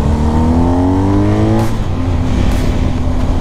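A 2021 BMW R1250 GS motorcycle accelerates hard and loudly up close, its engine tone climbing through the gears with brief dips between shifts.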